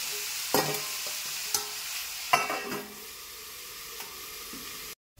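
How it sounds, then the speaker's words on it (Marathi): Onion fries in a pan with a steady soft sizzle, punctuated by a few sharp clinks of stirring, then the sizzle continues alone before cutting off. "आता आपण हा कांदा चांगला गोल्डन कलर भाजून घेतलेला आहे."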